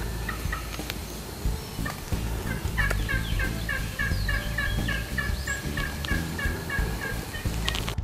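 A turkey hen yelp imitated on a mouth call gives a close, clear series of evenly spaced yelps, each with a distinct start and stop, repeated in a steady rhythm over a low outdoor rumble.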